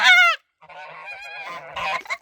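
Geese on a small farm honk loudly and nearby, one sharp call followed by a longer run of nasal, wavering honks and a couple of short final calls.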